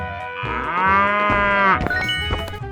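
Cow mooing in a 3D animal slide video game: one long, loud, drawn-out moo that swells and then breaks off, followed by a few short game sounds.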